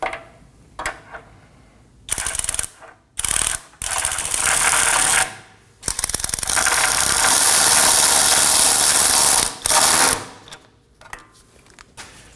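Ratchet working a control arm bolt down snug on a 2020 Toyota Corolla, heard as several bursts of rapid clicking of varying length, close and loud, separated by short pauses and quiet gaps.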